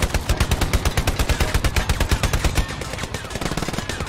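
Rapid automatic gunfire in the World War II shooter Hell Let Loose, fired at an anti-tank gun: a dense, loud string of evenly spaced shots that keeps going for about four seconds without a break.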